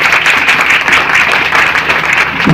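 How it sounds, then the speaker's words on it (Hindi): Loud, sustained applause from a church congregation, dense overlapping clapping at close range that holds steady for a few seconds. "परमेश्वर की महिमा के लिए ना ताली जोरदार होनी चाहिए।"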